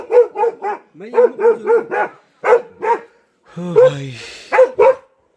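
Dogs bark at night in a Pahadi village in Uttarakhand after a tiger attack, sending out rapid close bursts of barking and yips with a whimpering whine, while someone speaks briefly.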